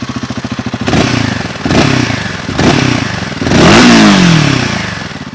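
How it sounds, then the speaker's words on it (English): A Royal Enfield Himalayan 450 motorcycle idling with a pulsing exhaust, then revved in several sharp bursts, the last rising into a longer, loud high-revving roar before dropping back to idle, close by. "this is how the exhaust sound like"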